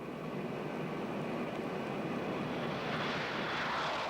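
Steady, continuous roar of military jet engines from a Cold War Soviet bomber being shadowed by a Western interceptor, a broad sustained drone throughout with a slight rise in hiss toward the end.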